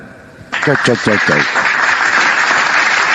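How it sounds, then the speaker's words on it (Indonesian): An audience at a Christian missionary talk bursts into loud applause after half a second of quiet. A short shouted voice rides over the first claps, then the clapping continues densely to the end. "Tepuk tangan."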